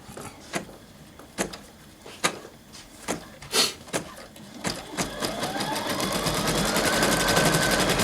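A Brother Innov-is 2800D sewing machine clicks a few times during threading, then runs into a steady, loud, close mechanical whir of stitching.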